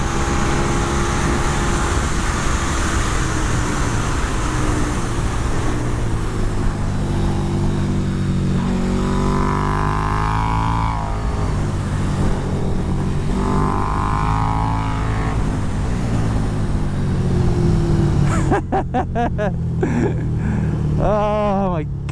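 A 2020 KTM 1290 Super Duke R held at full throttle in fifth gear on a track, a loud sustained engine roar that climbs in pitch and ends in a sharp burst of shifting, with no talking.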